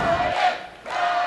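A crowd cheering section at a collegiate Rockin' Bowl bowling match, San Jose State against Erie CC, roars and chants in two loud surges to urge on a bowler.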